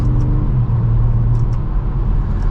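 A 2024 BMW 540i M Sport engine rumbles with a deep exhaust drone that rises slightly in pitch as it accelerates, steady and close.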